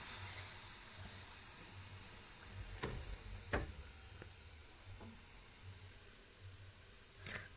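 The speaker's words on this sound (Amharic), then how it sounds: "ሽንኩርታችንን ጥብስ እናደርገው።" Chopped onions frying in a hot pan give a steady low sizzle, broken by a few sharp clinks of a utensil against the pan, with no voices.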